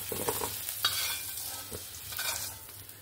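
Potato pieces frying in oil in a pan, seasoned with salt and turmeric, give a soft, steady sizzle broken by the scrape of stirring, quiet and close, with no talking.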